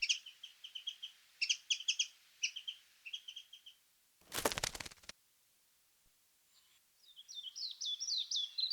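Wild birds in a harsh Korean winter habitat chirp in short bright bursts, with a loud rustling flutter midway, a few seconds of near silence, then a quicker run of tweets.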